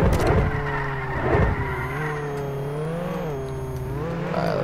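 Engine of a car spawned and driven in the Roblox game Jailbreak, a steady mid-pitched hum with a couple of rising revs, close and continuous with no talk over it.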